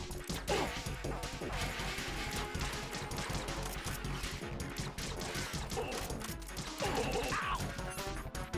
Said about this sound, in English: He fires his Glock at us.